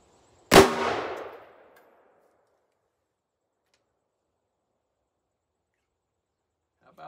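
A single loud .44 Magnum shot fired into a ballistic gel block, a sharp crack with a short decaying tail, followed by several seconds of silence and a faint rustle at the end.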